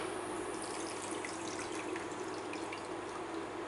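Water pours steadily over sugar in a pan for a candy syrup, a continuous close trickle and splash at moderate level with no voices.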